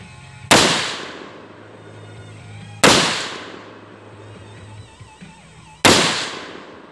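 Three loud rifle shots fired from a prone position outdoors, each a sharp crack with a quickly fading echo, spaced roughly two to three seconds apart with quiet between.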